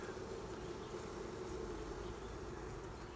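Honeybees fan their wings at the hive, a faint, continuous buzzing drone that holds steady throughout.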